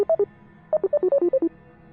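A phone's electronic ring warbles between two pitches in crisp bursts: three beeps, a silent gap, then a quick string of about eight more, close and prominent against silence.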